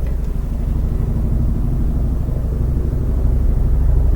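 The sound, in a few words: helicopter flying nearby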